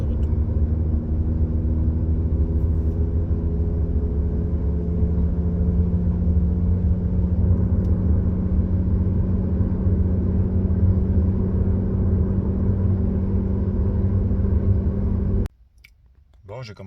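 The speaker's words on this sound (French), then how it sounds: "le très fort bruit de roulement que le bearing produit quand je vais sur l'autoroute" A worn rear wheel bearing on a 2016 Dodge Dart at highway speed gives a steady, loud droning hum and road rumble that holds for about fifteen seconds, then cuts off abruptly.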